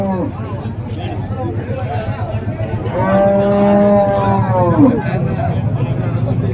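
A bull lets out a long, loud low moo midway through at a cattle market in Vaniyambadi, amid outdoor background noise and talking nearby.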